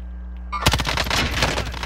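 Rapid gunfire from Call of Duty: Modern Warfare breaks out suddenly after a steady low hum, a loud burst of closely spaced shots that continues to the end.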